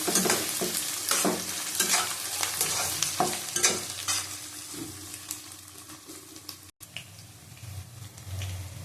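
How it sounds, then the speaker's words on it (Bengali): Onions with broken green chillies fry in a pan, a continuous loud sizzle with frequent scraping strokes of a spatula stirring them, steady throughout at close range; no voices. "পেঁয়াজটা ভেজে নেব ভালো করে লাল লাল করে"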